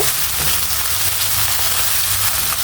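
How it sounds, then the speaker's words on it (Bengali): Ginger garlic paste frying in oil with cloves, a loud steady sizzle and crackle filling the pan throughout with no pauses. "তেলের সাথে ফ্রাই করে নিব"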